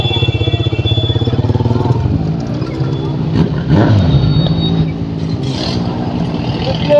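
A motorcycle carrying a passenger runs with a steady engine drone that rises and falls as it rolls off, close and fairly loud, with people talking over it.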